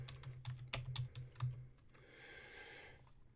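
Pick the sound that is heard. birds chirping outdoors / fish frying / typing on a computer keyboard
typing on a computer keyboard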